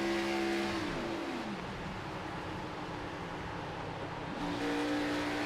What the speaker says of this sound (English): you can hear him shutting off the car, saving fuel